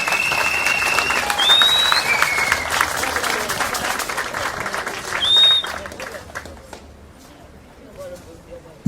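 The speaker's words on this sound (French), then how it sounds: "S'il vous plaît, applaudissez pour eux" Wedding guests at a Gabonese Obamba and Fang customary wedding applaud the parents, a dense mass of clapping with crowd voices mixed in that gradually thins and fades toward the end.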